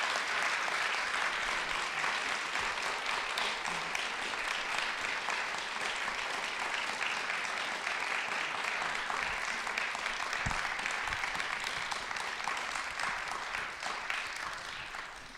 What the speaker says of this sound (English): Can we have a good round of applause to our speaker tonight?